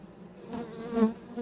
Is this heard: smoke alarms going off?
no